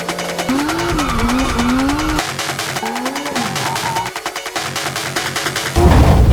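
A car drifting through figure eights, its engine revving up and down in rising and falling whines with tire noise, ending in a sudden louder roar.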